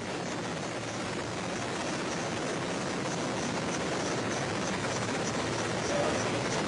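Search and recovery helicopter flying over the southern steppe of Kazakhstan after a Soyuz landing, a steady broadband rotor and engine roar holding constant and fairly loud throughout, with no voices.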